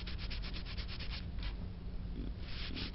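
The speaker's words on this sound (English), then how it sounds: "We'll see if we can't scrape off any excess without shoving it into the grooves." Rapid back-and-forth scraping across a cracked laminate countertop to clear off excess filler, a dry rubbing rasp in quick repeated strokes, close and fairly steady, with no talking.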